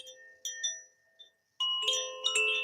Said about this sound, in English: I know these chimes are really nice, aren't they?